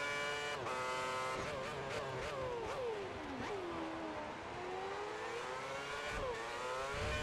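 Formula One cars racing in the F1 2010 video game at Catalunya, high engine whines rising and falling continuously as several cars lap quickly, loud and steady with no talking.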